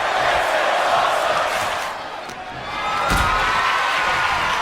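Arena crowd in WWE 2K24 cheering and roaring during an NXT Halloween Havoc wrestling match, a dense continuous wall of noise that dips briefly and swells back up, loud and close.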